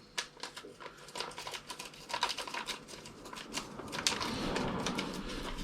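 An Xpress FT1S 2022 RC car chassis is unpacked from its packaging, making close, continuous crinkling and crackling rustles of plastic and cardboard that grow denser toward the end.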